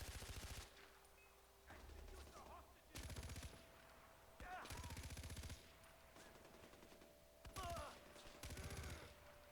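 Gunfire in the video game Far Cry 4 comes in repeated bursts of rapid automatic shots, several volleys separated by short pauses, loud against a quieter game background.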